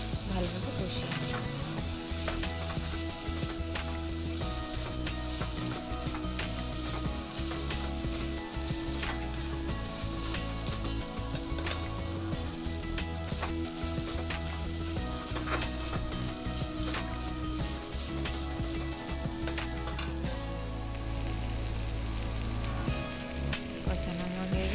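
Spiny gourd curry made with ghee is sautéed in a pan, giving a long, steady sizzle and frying hiss that runs continuously beneath a layer of voice and music.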